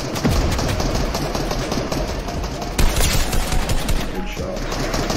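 Rapid bursts of gunfire from a battle-royale building shooter match, dense and continuous with sharper volleys near the end, under faint game ambience.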